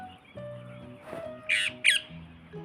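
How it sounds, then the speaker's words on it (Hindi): Two short bursts of bird calls stand out over a quiet background with a steady low hum, brief and fairly close, separated by a pause. "आप खुद ही सुन लीजिए इनकी चहचहाट को"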